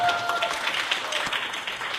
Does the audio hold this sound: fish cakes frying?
no